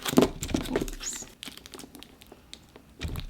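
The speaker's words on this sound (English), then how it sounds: "Let's go ahead and open up the little clay packs." Plastic packs of polymer clay are crinkled and torn open in close, uneven bursts of rustling and crackling, with pauses between handling and a final flurry.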